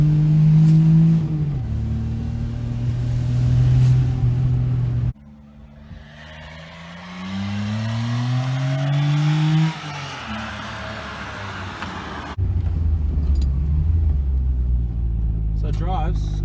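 Daihatsu Mira with newly installed suspension driving and accelerating, engine note rising and falling through revs in several segments, close and loud with cab rumble.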